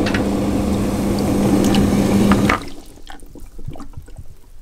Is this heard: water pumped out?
yes